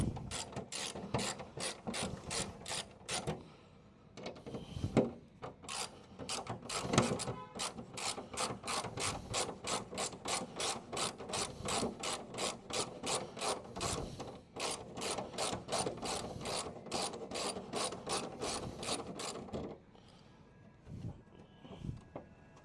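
A hand ratchet fitted with a 10mm socket clicks in rapid, steady bursts with brief pauses while removing the number plate from a Subaru Solterra, close and fairly quiet, with no talking.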